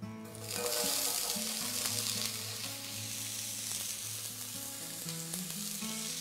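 Onion added to hot corn and sunflower oil in a pot, bursting into a loud steady sizzle right up close as it fries, with faint background music beneath.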